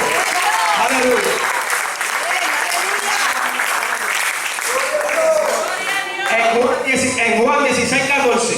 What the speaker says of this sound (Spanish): Dale un aplauso a Cristo que estamos este día.